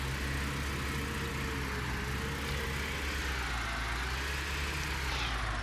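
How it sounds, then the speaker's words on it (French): A tractor engine in a farming video game runs at a steady, droning mid-pitched hum while being driven, constant and unbroken with no talk over it. "Après je ramène le tracteur."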